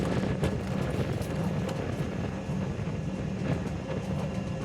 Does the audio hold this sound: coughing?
no